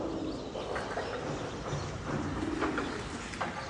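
Pigeons cooing softly and steadily at close range, with scattered chirps over a continuous rustling background and no voices.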